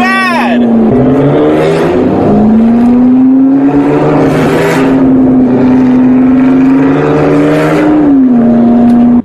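A subscriber's car engine revs loudly and roughly, its droning tone climbing and settling through repeated throttle blips, continuous and close for the whole stretch.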